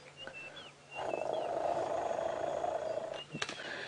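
An elephant's low, rough rumble, almost like a purr, rolls on for a couple of seconds, with faint bird chirps in the background.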